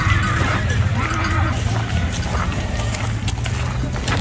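Horses neigh and hooves clop continuously as riders gather and prepare their mounts before a large cavalcade in Mexico, a dense, loud outdoor crowd of animal sounds with steady hoof noise underneath.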